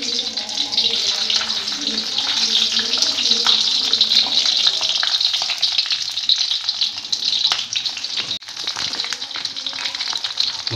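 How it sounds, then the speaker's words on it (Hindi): Potato-stuffed green chillies hit hot refined oil in a kadhai with a loud, bright sizzle that fills the clip, softening slightly toward the end, while a voice speaks faintly underneath. "अब कढ़ाई गर्म कर ली है और उसमें तेल भी रिफाइंड को गर्म कर लिया है। अब इसमें मैं ये डालूँगा,"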